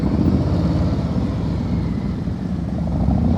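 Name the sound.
motorcycle changing gears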